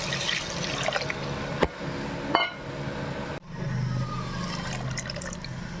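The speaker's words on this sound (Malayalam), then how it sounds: "നന്നായി വഴറ്റിയതിലേക്ക് ആവശ്യത്തിന് വെള്ളം കൂടി ഒഴിച്ചു കൊടുക്കാം" Water pours steadily into a pan of sautéed masala for tuna fish curry for several seconds, a soft continuous splashing with a couple of brief clinks, fairly close.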